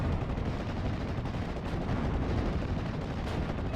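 Heavy guns and explosions rumble continuously in a WWII tank battle game with Panzer III and Cromwell tanks, a dense, loud barrage of booming fire with no distinct gaps.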